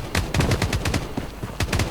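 Rapid automatic gunfire in the mobile shooter Blood Strike, several quick bursts of loud close shots in an uneven rhythm, with no voices over it.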